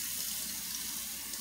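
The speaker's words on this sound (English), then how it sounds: "Rinsing the dishes off." Water running steadily from a kitchen tap while dishes are rinsed in the sink, a constant close hiss with no voices.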